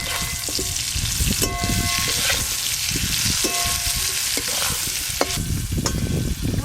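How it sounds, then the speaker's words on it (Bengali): Pumpkin pieces fry in a pan with chili and cumin powder, a steady, loud sizzle broken by the scrape and clatter of a spatula stirring, with no one talking. "গুঁড়ো মশলা দেওয়ার পর কুমড়োগুলো কিন্তু বেশিক্ষণ নাড়া যাবে না, একবার ভালো করে নেড়ে নিয়েই নামিয়ে নেব"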